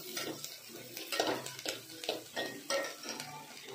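Mutton keema vadas fry in a pan, a steady close sizzle broken by repeated clattering bursts of a spatula scraping and turning them against the metal, with no talk.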